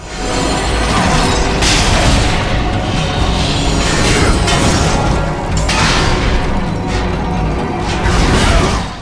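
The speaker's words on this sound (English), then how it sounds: "Tara's Bane's explosion's doing way more damage as well." An explosion in the video game God of War: Ghost of Sparta, a loud, continuous rumbling roar with crackling bursts and whooshing swells carrying on for several seconds without a break.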